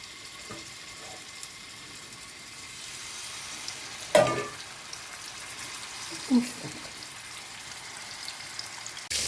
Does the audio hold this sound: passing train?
no